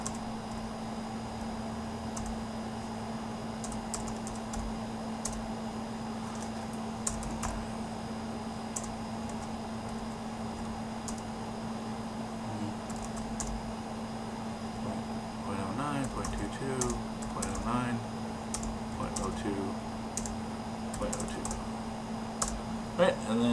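Soft, irregular clicking of typing on a computer keyboard, with scattered keystrokes that grow busier later, under a steady background hum and occasional talk.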